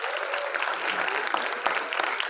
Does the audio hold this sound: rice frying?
no